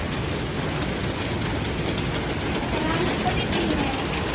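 Rain falling in Manila, a dense steady hiss of rainfall close by with traffic-like rumble underneath, while people talk over it.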